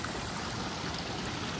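Mountain stream flowing beside the trail to Kedarnath, a faint, steady hiss of running water with no break and no voices.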